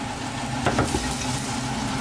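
Onions frying in a pot for pot-au-feu, a steady loud sizzle close by with a brief stirring clatter in the middle and no talking.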